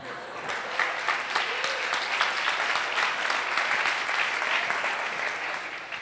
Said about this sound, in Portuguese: palmas para o amigo dele, que é muito corajoso